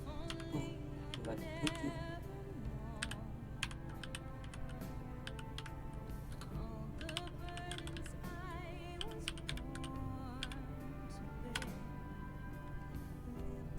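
Steady typing on a computer keyboard as a grep command is entered in a Linux terminal, a close, continuous patter of key clicks with a few sharper strikes and no talk over it.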